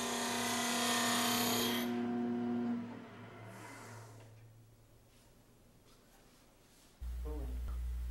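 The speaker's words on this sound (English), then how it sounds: "With the 8th parting tool, I define the length of the piece." A parting tool cuts into wood spinning on a lathe, giving a close, steady rasping hiss with a high tonal whine that fades over several seconds before a lower hum of the lathe returns.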